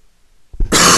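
A single short cough, a brief throat-clearing burst that springs from near silence, close and loud, lasting under half a second.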